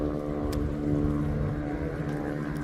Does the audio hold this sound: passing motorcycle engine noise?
yes